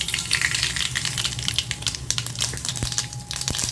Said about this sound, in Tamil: காயட்டும் எண்ணெய் கடுகு போட்டுக்கலாம்